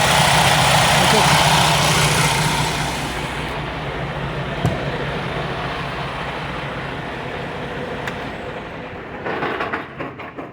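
A Freightliner truck engine idles just after starting, with a steady low rumble close by that settles and quiets a little, then a few clunks and knocks near the end.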